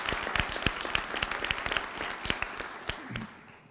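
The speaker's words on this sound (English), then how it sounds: "Give Mike a round of applause" Audience applause at an Arkansas rural development conference: a mid-sized crowd clapping steadily with sharp individual claps standing out, then thinning and fading toward the end.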